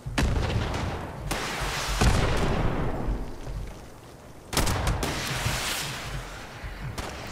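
Missile launcher blasts in Fallout 76: a few loud, sharp booming bursts with rumbling tails, one at the very start, then more around the first and second seconds and again after four seconds, each followed by a lingering roar.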